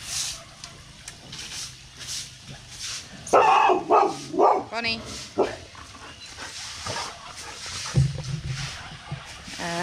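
Dogs bark in short bursts at a rural homestay near Ratchaburi, Thailand, loud and close for a few seconds amid farm noise, with people talking around them.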